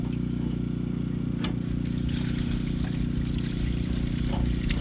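Water is poured for boil-in-bag brown rice at a cold-weather truck campsite. A soft trickling pour runs over a constant low mechanical hum, with a sharp clink near the start and no talking.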